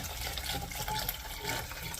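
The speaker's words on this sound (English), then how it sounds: "Now we got to add 4 cups of beef broth." Beef broth pours steadily into a gravy pan, a continuous gushing liquid splash at moderate, fairly quiet level with no talking over it.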